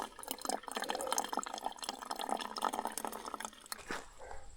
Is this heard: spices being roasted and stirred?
no